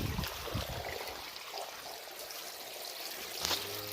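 Irrigation water runs through a channel into a maize field, a soft continuous trickle and flow heard close by, faint and steady with a few small splashes.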